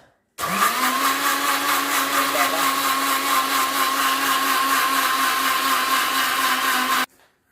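An electric blender whirs at a steady high speed for about seven seconds while mixing cold coffee, starting and stopping abruptly, a loud close, unbroken motor drone with no talking.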